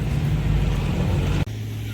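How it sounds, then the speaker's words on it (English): A modified exhaust on a Mopar car rumbles with a steady, loud low drone, then cuts off abruptly and gives way to a quieter, lower idle-like hum. "that's obviously a modified exhaust"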